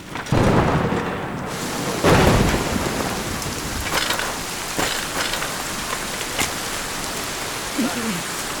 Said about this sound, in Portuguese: Tá chovendo bem forte.